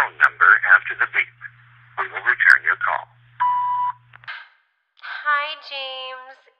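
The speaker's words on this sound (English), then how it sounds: "Please leave your name and phone number after the beep." A recorded answering machine greeting speaks, then a single steady electronic beep sounds for about half a second, followed by a short pause and more speech.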